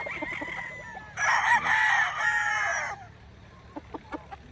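A bullstag rooster, a red-eyed gamefowl on a breeding farm, gives one loud, close crow of about two seconds, with soft clucks before it and several short clucks after it.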